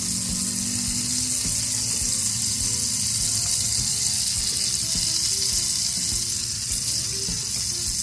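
A ham and cheese roll fries in butter in a pan, giving a close, continuous crackling sizzle at an even level throughout, with no talking.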